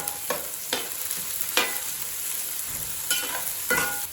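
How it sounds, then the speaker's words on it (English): Finely chopped beans and carrots fry with green chili in a pan for egg fried rice, a steady sizzle broken by several sharp, scraping stirs of a spatula, close and moderately loud. "Fry it for 2 minutes."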